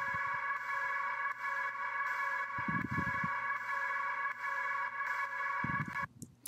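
Ambient, wide synthesized vocal layer made for a heavy future bass track, a steady sustained tonal pad with stacked harmonics that drones continuously and fairly quietly, with faint low thumps underneath before cutting off near the end.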